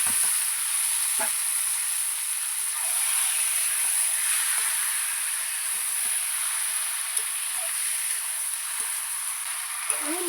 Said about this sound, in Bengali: আগে থেকে মশলা মাখিয়ে দেওয়া মাংসটা দিয়ে দেবো